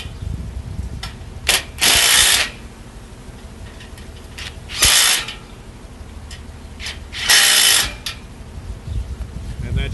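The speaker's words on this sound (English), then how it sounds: "now we take an impact with a 9/16 socket on it and tighten them down." An impact wrench with a 9/16 socket tightens U-bolts on an auger assembly, firing three loud buzzing bursts of a second or less each, separated by quieter handling noise.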